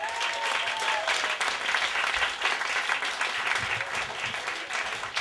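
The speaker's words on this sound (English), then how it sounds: "give applause to Matteson Perry" Audience applause for a comedian being welcomed to the stage, a steady dense patter of many hands clapping throughout, moderately loud and close, with a faint voice briefly audible beneath.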